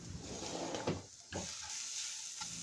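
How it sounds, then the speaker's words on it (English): Spices for a curd chicken curry, with curry leaves, green chili, salt and turmeric, sautéing in a pan on medium heat; a soft, steady sizzle with faint scraping stirs, quiet and close. "Saute for 1 minute or 2 minutes."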